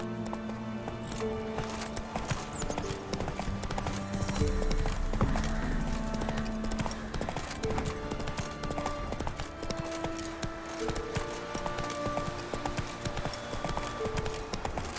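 Horse hooves galloping in The Witcher 3 video game, a quick steady clip-clop rhythm over a dense layer of game music and ambience, with no clear talk.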